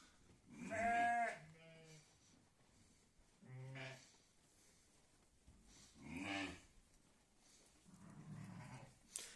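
A ewe that has just lambed and her lamb bleat in turns close by in a village pen, several separate calls spread through quiet gaps, some higher and some lower.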